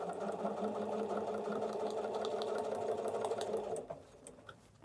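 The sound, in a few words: sewing machine stitching foundation paper piecing with a tight stitch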